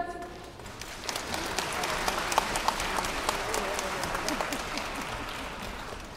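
Audience applause at a Chinese choir and orchestra concert, welcoming a singer for his solo recital: steady, full clapping from a large crowd filling the hall, with sharp individual claps standing out throughout.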